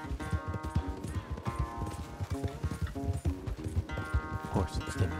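Rapid, rhythmic hoofbeats of a galloping horse in Red Dead Redemption 2, steady and close, with a musical score and occasional voices underneath.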